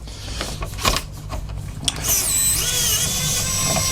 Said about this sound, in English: Get all these screws out